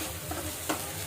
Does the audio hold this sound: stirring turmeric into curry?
yes